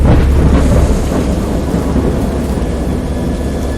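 Heavy, continuous rumble of a storm with steady rain, a deep thunder roll swelling at the start and fading into dense wash.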